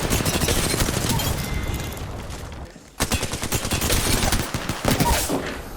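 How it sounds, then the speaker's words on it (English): Rapid hip-fire gunshots from Apex Legends, dense bursts of loud close-range fire that thin out briefly and then resume with sharp repeated shots and impacts. "Here are some other examples of hip firing in Apex Legends and how good it is."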